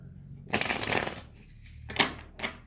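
Tarot cards are riffled and shuffled close up in a few quick bursts, with crisp flutters separated by short pauses.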